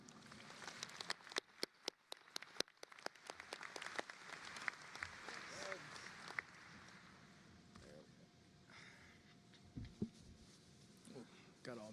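Applause from a commencement audience welcoming a speaker at the JWU Charlotte 2025 ceremony, with sharp clapping bursts that thin out as a voice begins talking over a roomy hall ambience.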